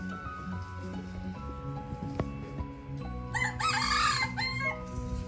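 A rooster crows loudly partway through, with hens clucking around it and scattered farmyard noise throughout.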